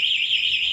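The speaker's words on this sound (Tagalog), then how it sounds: "So, pagka ginalaw ito mga paps, isang beses, automatically mag-alarm na siya." A Yamaha Mio Gravis scooter's anti-theft alarm blares a steady, loud electronic tone with a gently wavering pitch, close by and alone with no talk over it.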